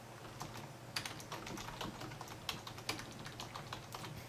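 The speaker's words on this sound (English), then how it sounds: "So I'm just going to type my name." Soft, quiet keystrokes on a computer keyboard during first-time Windows 8 setup, irregular clicks with a few sharper taps as a name is typed, close and alone without speech.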